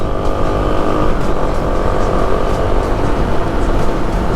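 A 2021 Kawasaki KLX300 dual-sport motorcycle engine drones steadily and loudly as it picks up speed on the road, with constant wind rush over the motor and no gaps.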